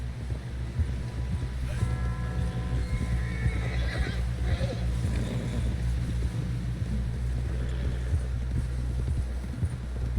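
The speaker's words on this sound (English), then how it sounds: "Someone help John down off this horse." In the video game Red Dead Redemption 2, a horse gallops and whinnies over a constant low rumble, with hoofbeats and clattering movement under a steady wash of background noise.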